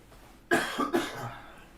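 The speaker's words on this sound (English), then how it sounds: "I'm going to cough." Two quick, close coughs from one person, the first sharp and the second softer, following a short quiet pause indoors.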